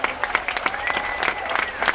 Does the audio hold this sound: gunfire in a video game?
no